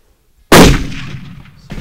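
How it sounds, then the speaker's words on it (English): A single loud rifle shot cracks out at a whitetail buck during a hunt in Central Texas, followed by a decaying rumble of echo across open ground, with a fainter noise near the end. "We got to stop him, get everything settled, and make the shot."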